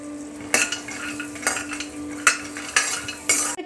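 Dry fruits roasting in a pan for flaxseed (alsi) laddu, with a spoon scraping and stirring in repeated bursts over a steady low hum, close and fairly quiet, no talking.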